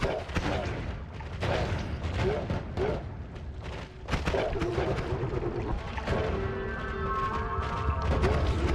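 Explosions and crashing blasts in a video game, repeated bursts of booms and gunfire-like impacts packed across the stretch, loud and dense with a tonal game sound rising near the end and a voice faintly under the noise.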